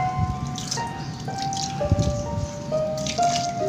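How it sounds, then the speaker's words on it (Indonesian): Water dripping and trickling after watering potting soil around an aglaonema plant, with irregular drips and small splashes over a low background, no talking. "Lahan ini kita siram cukup untuk 3 sampai seminggu"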